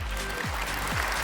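An audience at a business award function applauds to welcome a guest, a dense, continuous wash of clapping heard from within the hall.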